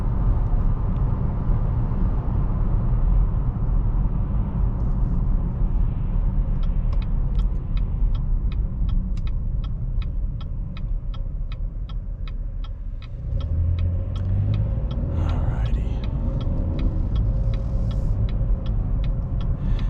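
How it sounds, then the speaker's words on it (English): Steady low road rumble and tire hum from inside a moving 2023 Chevy Blazer RS with a 3.6 liter V6, with a faint rhythmic ticking and a brief shift in tone midway. "Just a little bit of tire noise too"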